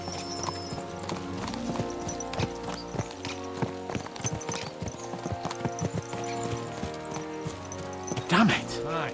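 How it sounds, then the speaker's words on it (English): In Kingdom Come: Deliverance II, horses clip-clop at a gallop in a rapid, steady hoofbeat rhythm under in-game music, with speech in the mix and a short whinny near the end. "Let's really spur these horses on, eh?"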